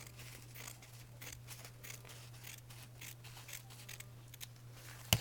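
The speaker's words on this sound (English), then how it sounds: "So after you get your napkin cut down to size, trim the top on that a little bit better." Scissors snip a napkin for a beeswaxed wall hanging craft in a series of quiet, closely spaced cuts over a steady low hum, ending in a louder handling bump.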